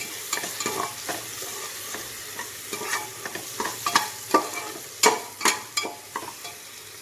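Crushed green chillies are stirred into beef frying in a pan, with a soft sizzle under repeated scraping strokes that grow louder and sharper toward the end, no voices.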